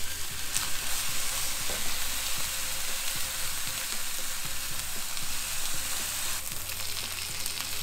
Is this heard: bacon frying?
yes